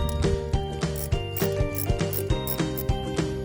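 A ratchet with a 5/16 socket tightens the battery terminals on a 2014 Chevy Express 3500, giving rapid, close mechanical clicks in repeated short strokes.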